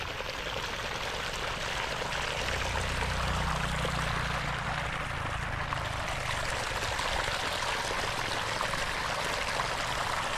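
Steady flowing water pours and trickles onto eggplant plants for the whole stretch, a constant wash of noise with a faint low rumble underneath; no talking.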